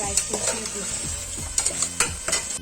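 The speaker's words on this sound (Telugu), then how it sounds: "ఉప్పు వేసుకొని కలుపుకోవాలి. మిక్స్ చేసి మూత వేసేయాలి" Chicken with ginger paste, turmeric and salt sizzles in a hot pan while a spoon stirs and scrapes it in a few quick, clattering strokes, close and fairly loud, with no voices.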